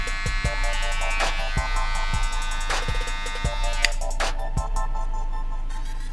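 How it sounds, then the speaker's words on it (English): A Wahl Magic Clip professional barber hair clipper runs continuously with a loud, steady electric buzz up close, broken by occasional sharp clicks and brief changes in pitch. "The first clipper I want to talk about is these magic clips"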